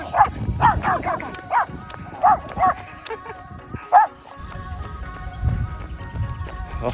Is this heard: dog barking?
yes